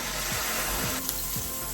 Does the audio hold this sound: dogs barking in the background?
no